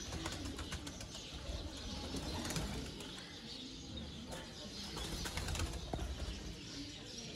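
Pigeons kept by a fancier in Sialkot coo softly while wings flap in repeated bursts, close and continuous, with rustling and clattering throughout and no talking.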